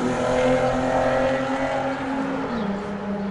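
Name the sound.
fast car passing by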